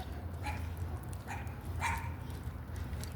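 A small off-leash dog yaps three times at a distance during an outdoor walk, the short barks faint over steady low background noise.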